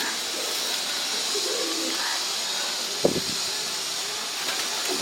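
A black female pigeon gives soft, low coos against a steady hissing background, with one brief louder knock midway.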